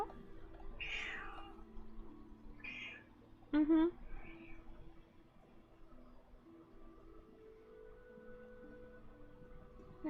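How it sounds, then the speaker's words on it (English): A pet cat meowing indoors, a few short meows near the start followed by one louder, brief call, while a person speaks softly nearby. "What's up, little attention kitty"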